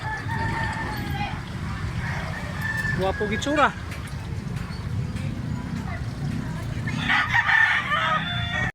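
White Leghorn chickens cluck and a rooster crows close by in a busy market yard in Carbon, Cebu, with people talking over the steady background noise.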